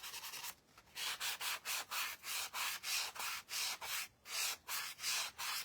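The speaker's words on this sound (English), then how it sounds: "we're going to just sand those down a little bit" A wooden pumpkin craft piece is sanded by hand in steady, regular back-and-forth strokes, each one a close, dry rasp, with brief pauses between them.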